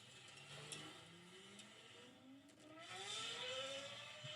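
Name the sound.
hypercar engine with triple exhaust pipes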